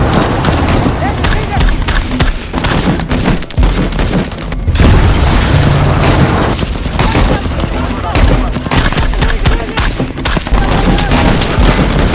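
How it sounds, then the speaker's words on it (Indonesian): A bomb detonates against a vehicle convoy in a war film scene: loud booming blasts and bursts of gunfire crackle across the clip amid a dense, chaotic battle mix, with voices mixed in. "Detonator bomnya pun ditekan dan..."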